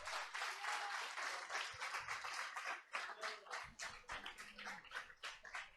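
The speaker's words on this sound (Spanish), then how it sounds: "¿Podemos darle un aplauso al Señor por eso?" Congregation applauding during a Sunday church worship service, a steady wash of many hands clapping for several seconds, fairly quiet and slightly distant, with faint voices underneath.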